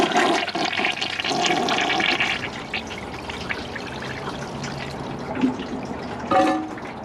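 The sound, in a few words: toilet flushing with latex gloves in bowl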